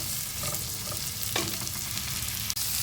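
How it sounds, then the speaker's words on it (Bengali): Bitter gourd with salt frying in a pan, a steady loud sizzle with scraping stirs from a spatula at intervals, close up and without talk. "নুনটা একটু দেওয়ার পরে উচ্ছেটা একটু ভাজা ভাজা হলে তারপর আবার তোমাদের কাছে আসবে"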